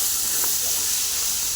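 Ginger garlic paste hits a pan of onions for biryani and lets out a steady, bright hiss of steam and sizzle that fills the short moment.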